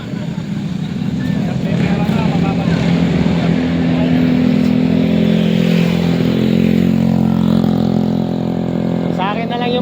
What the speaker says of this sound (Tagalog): Pinasayang nyo lang ang motor nyo dito.